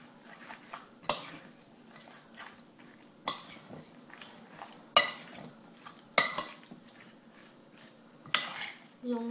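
Crème fraîche being mixed into ingredients in a salad bowl for a cucumber tart, with a few sharp utensil knocks against the bowl between soft, quiet stirring scrapes, close by and without talk.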